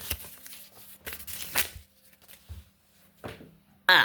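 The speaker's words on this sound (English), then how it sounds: "And that's how you make the noise of tearing paper" A sheet of paper being torn by hand at home, several short rough ripping bursts with pauses between them, close and fairly loud, ending with a sharp final rip.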